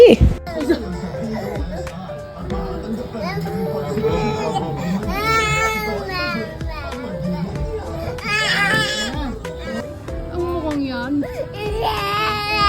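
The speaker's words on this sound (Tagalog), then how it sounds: "pakinggan ninyo ang iyak ng baby D" A baby crying in short whimpering bursts, fairly close, with people talking over and between the cries.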